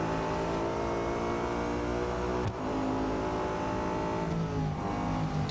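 Race cars in Real Racing 3 roar and rev loudly and steadily, engines whining up through the gears as they jostle and overtake, with a brief dip and shift in pitch midway.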